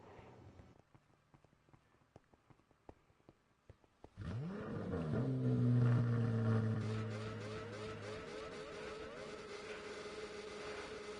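A car starts up after a few quiet clicks and taps, then its engine revs and pulls away, rising in pitch and staying fairly loud before it steadies into a continuous driving hum.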